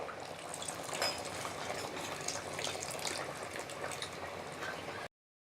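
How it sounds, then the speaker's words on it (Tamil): A pot of drumstick sambar with tamarind water bubbles and simmers steadily at close range, a continuous boiling sound that stops abruptly at the end. "பாருங்கள் சாம்பார் நல்லா கொதிச்சிட்ருக்கு"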